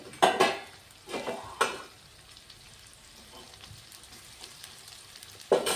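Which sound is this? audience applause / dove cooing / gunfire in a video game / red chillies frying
red chillies frying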